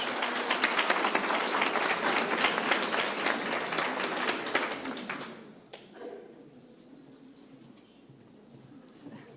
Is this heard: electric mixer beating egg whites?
no